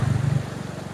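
A motorcycle riding through floodwater in a flooded village, its engine giving a brief, close, pulsing throb that fades slightly within a second, with no talk.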